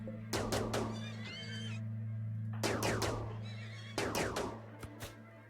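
Several loud, shrill horse whinnies in the video game RimWorld, arriving in three bursts over a steady low electronic hum, with no talking.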